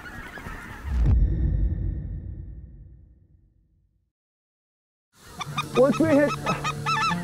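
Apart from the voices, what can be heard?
geese honking during a goose hunt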